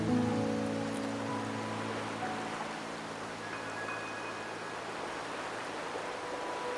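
Steady night rainfall in the video game Wuthering Waves, a constant soft broadband hiss of drops with a low tonal hum beneath, even and unbroken throughout.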